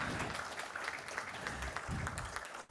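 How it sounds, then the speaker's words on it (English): Applause from the audience at a finance awards ceremony, a continuous, fairly faint crowd clapping that holds steady and then cuts off abruptly. "So with that encouraging round of applause"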